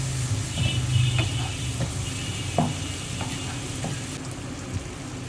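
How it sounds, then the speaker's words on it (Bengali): Ground spice paste of cumin, fennel, chilli, turmeric and salt, with chopped tomato, frying and being stirred in a pan for chicken curry, giving a steady close sizzle with occasional scrapes and clicks of the spoon. "মশলাটাকে খুব ভালো মতো কষিয়ে নিয়েছে।"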